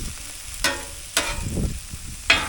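Shrimp stir-fry vegetables sizzle softly on a Traeger Flatrock griddle, broken by three sharp scraping strokes of a utensil stirring them, close and otherwise quiet.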